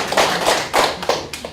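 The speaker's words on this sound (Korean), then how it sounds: "우리 박수," A small group at a press conference in a party office claps in several uneven bursts, close and fairly loud, with no talk over it.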